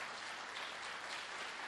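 A church congregation claps together in dense, sustained applause that fills the room evenly with no pauses, heard at a moderate distance without speech.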